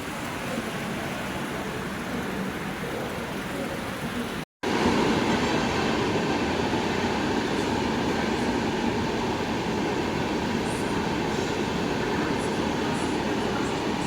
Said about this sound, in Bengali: এটা কোন মেইল এক্সপ্রেস ট্রেন মনে হয় রাজধানী হইব কি স্পিডে স্কিপ করে প্রয়াগরাজ জংশন